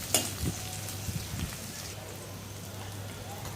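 Onions frying in a black kadai, a soft steady sizzle with faint crackles and a few stirring clinks early on, quiet and close.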